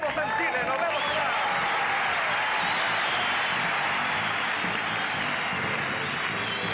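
Studio audience of a Sunday dance show applauding and cheering, a dense continuous crowd roar with a voice faintly mixed in.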